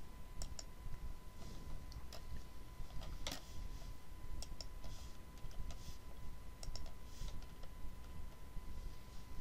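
Computer mouse clicking at a desk, a few sharp isolated clicks spaced irregularly over a steady low background hum, close and fairly quiet.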